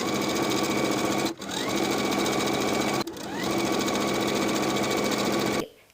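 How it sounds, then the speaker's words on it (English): A sewing machine runs steadily, edge stitching the rolled hem of a flowing summer dress, in a loud, close whir that stops briefly twice, restarts, then cuts off at the end. "I'll edge stitch the hem in place all the way around."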